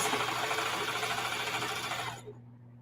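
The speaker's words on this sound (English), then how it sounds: "So I'm going to sew around the edges" A sewing machine stitches around the edges of a denim crossbody phone bag, a fast steady whir with rapid needle rattle, close and continuous before stopping abruptly near the end, leaving quiet room tone.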